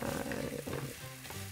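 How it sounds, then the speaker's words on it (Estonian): Onion sizzles loudly in a hot pan, with bursts of frying crackle and stirring scrapes over a continuous hiss. "Ja me praeme seda sibulat kuskil paar minutit."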